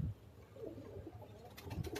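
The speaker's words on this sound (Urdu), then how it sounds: "یہ علی والا کبوتر ہے" An Ali-wala breed pigeon coos softly in low, throaty murmurs amid a faint background hiss, with a brief flutter or rustle near the end and no talking.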